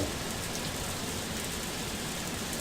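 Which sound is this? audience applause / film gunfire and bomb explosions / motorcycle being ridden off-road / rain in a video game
rain in a video game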